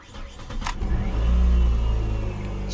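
A used car engine catching and rising into a steady idle, loud and close, after a brief click and rustle at the start, with no voices.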